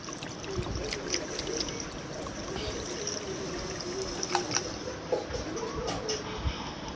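Mutton pieces are washed in water in a kitchen, with soft sloshing, pouring and trickling sounds and small splashes recurring at a moderate, quiet level.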